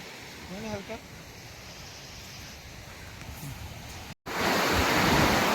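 Waves at a beach, a steady broad wash of surf with wind buffeting the microphone, someone talking briefly near the start, then a sudden louder roar after a short cut.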